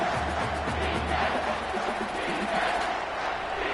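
A home stadium crowd roars in a college football video game during a Texas versus LSU matchup, a loud, continuous wash of cheering and whooping throughout a third-down play.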